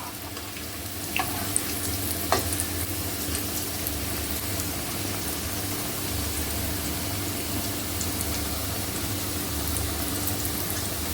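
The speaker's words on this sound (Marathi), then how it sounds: "गोल्डन रंगावरती आपण दोन्ही बाजूने चांगल्या तळून घेऊया" Steamed cabbage vadi shallow-fry in hot oil until golden on both sides, giving a steady, continuous sizzle with a few sharp pops and light clicks scattered over it.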